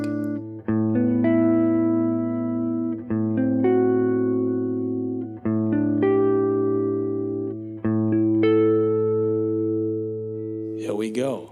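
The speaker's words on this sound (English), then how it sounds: "You can play A-Dorian in fourth. I'll give you an example and then I'm going to jam a little bit to give you an idea what it sounds like." Electric guitar with effects jamming an A Dorian phrase in fourths, sustained chordal stabs with chorus-like shimmer and clear pauses between phrases, close and alone, with a short voice at the end.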